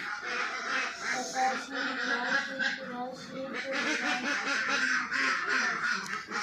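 A flock of around 250 egg-laying ducks on a farm, a busy overlapping chorus of quacking under people talking nearby.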